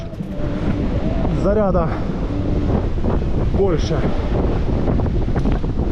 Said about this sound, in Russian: Ох, тут какой ветер, падла.